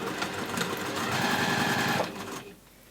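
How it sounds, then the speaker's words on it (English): A sewing machine runs steadily for about two seconds, stitching the lining of a fabric nesting gift basket, then slows and stops, close and clear with no talk. "it doesn't matter which way I kind of start sewing."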